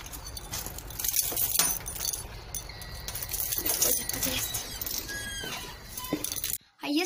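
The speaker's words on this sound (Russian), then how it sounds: "Так, ключи." Keys jangle and clink close by during an outdoor walk on a rainy day, with bright metallic rattles scattered across several seconds over steady background noise.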